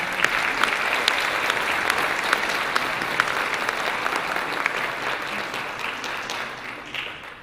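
Sustained applause from a sizable crowd at the official launch of Mexico's action plan for the International Decade of Indigenous Languages, dense steady clapping that continues throughout and tapers slightly toward the end.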